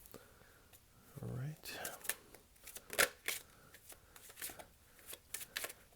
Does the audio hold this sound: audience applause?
no